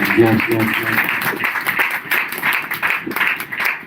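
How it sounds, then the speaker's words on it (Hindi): A church congregation claps steadily for Jesus during a sermon, a dense patter of many hands in a room, with a voice speaking over the start. "आइए हम प्रभु यीशु के लिए एक जोरदार ताली लगाएंगे"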